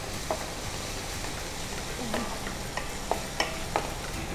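Puffed rice poha frying in a pan with turmeric and a little sugar, giving a steady soft sizzle under repeated stirring, with a few light scraping clicks near the end.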